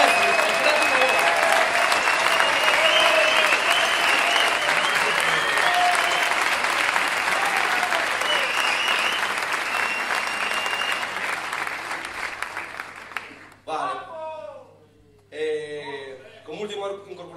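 A concert audience applauds the bass player at a blues show, sustained dense clapping with some cheering that slowly fades over about thirteen seconds, followed by a voice speaking.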